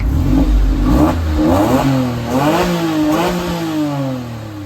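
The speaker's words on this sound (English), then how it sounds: "I did promise that I'd let you hear the exhaust note, because it has got sports exhaust on it as well." A Porsche 911 Carrera 4S Cabriolet Tiptronic with all-wheel drive and a sports exhaust revs several times up close. Loud engine pitch swells and falls in repeated blips with no talking.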